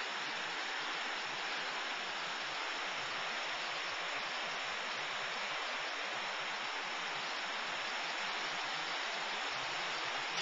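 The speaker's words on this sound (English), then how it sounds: "Water must be whipping through there." Floodwater rushing through a mountain brook at flood stage: a dense, unbroken hissing roar of churning water, steady and close for the whole stretch, with no voices.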